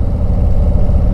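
Harley-Davidson motorcycle engines, including a 2023 CVO Road Glide, rumble in a steady, loud low drone with no talk over it.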